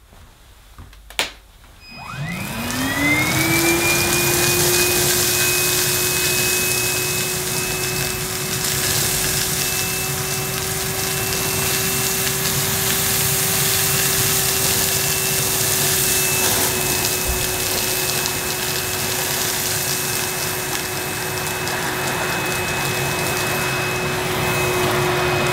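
A Numatic Henry Cordless vacuum cleaner switches on after a click and spins up into a steady, loud, continuous whine and motor hum that holds for over twenty seconds without a break.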